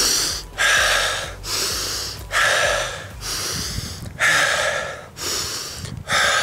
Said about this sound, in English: So have those deep breaths.